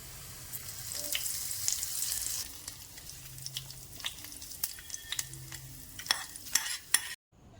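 Shallots, dried chillies and curry leaves fry in oil for chicken mappas, giving a sizzle that is dense at first and then thins out, with repeated spoon scrapes and clinks before a sudden cutoff near the end.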